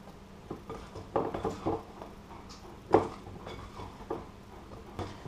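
A scraper folds macaron batter into meringue in a bowl, giving soft, irregular wet slaps and scrapes against the bowl with brief pauses between strokes. No one speaks, and the strokes sound close.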